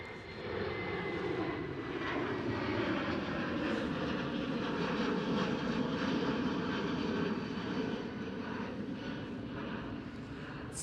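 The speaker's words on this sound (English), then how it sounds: "And the Norse Indigo 787 is moving again." Norse Boeing 787 jet airliner rumbling at Schiphol airport as it taxis, a continuous broad engine roar with a slowly shifting whine, heard from a distance and fairly steady throughout.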